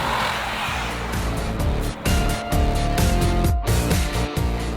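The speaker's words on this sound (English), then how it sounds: "the G63's V8 makes a hearty ruckus." Mercedes-AMG G63 hand-built V8 engine and side-exit exhaust of a 2019 G-class roaring loudly and steadily, with revving swells and brief dips between gear changes.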